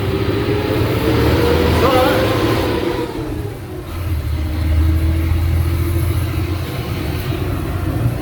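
A bus engine drones and rumbles steadily from inside between Grand Baie and Pereybere, Mauritius, rising and easing with the road, with no voices over it.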